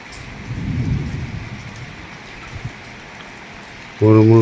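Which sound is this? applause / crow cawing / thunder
thunder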